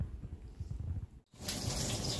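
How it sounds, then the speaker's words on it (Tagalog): Water comes to a boil in a cooking pot, a low bubbling rumble that cuts out briefly and then returns as a steady, louder hiss close by. "kumukulo na yung ating tubig"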